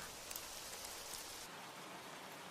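Steady rain falls throughout, a dense, even hiss of drops pattering on surfaces at moderate loudness, with no voices.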